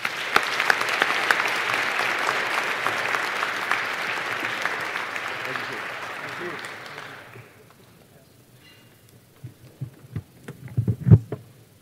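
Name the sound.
audience round of applause for speakers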